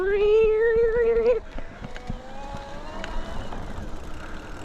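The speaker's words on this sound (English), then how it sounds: "even if you just hit the throttle, the motor kind of like starts this like startup procedure" A Tongsheng TSDZ8 mid-drive e-bike motor on a Schwinn Axum Comp starting up after the throttle is pressed, a loud rising electric whine holding a steady tone, then cutting off and giving way to quieter mechanical whirring and clicks.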